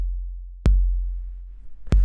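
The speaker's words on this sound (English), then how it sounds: "this is an 808 kick. I'll show you the original sample." Original 808 kick drum sample for a raw electro track: two isolated booming hits with a hard click attack and long, deep sub-bass tail, spaced just over a second apart.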